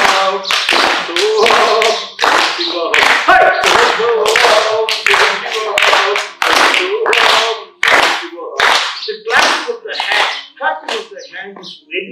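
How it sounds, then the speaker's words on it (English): Rhythmic hand clapping in steady beats accompanies group singing, the voices and claps loud and close together throughout. "That we do it with the clapping of the hands."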